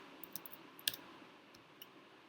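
Keys tapped on a computer keyboard to enter a terminal command, a few light, quiet clicks spaced irregularly over a couple of seconds with one sharper tap.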